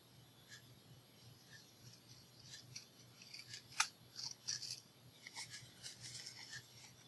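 Scissors trim a paper ephemera keychain at close range, with a run of quiet, crisp snips and rubbing sounds and no talk.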